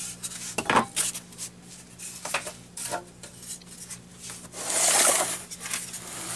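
An X-Acto knife slices through terrain building material in a few short scraping cuts, with a louder, longer rasping stroke near the end, close and dry, no voices.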